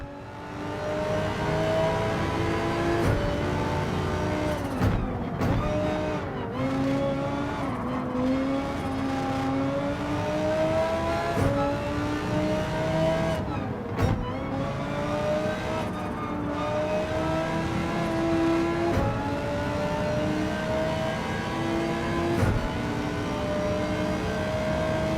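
From inside the cabin of an Audi touring car in the video game Gran Turismo 7, racing at the Red Bull Ring, a loud engine drones steadily, revving up and dropping through repeated gear shifts, with no talking.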